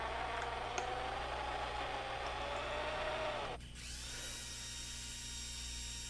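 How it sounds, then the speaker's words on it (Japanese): Drill boring a 4 mm hole through a thick steel plate after center-punching, a steady close grinding whir that abruptly drops in pitch and load partway through, then continues as a lighter spinning whine, with no talk. "ここに、直径4ミリのですね穴を開けていきます"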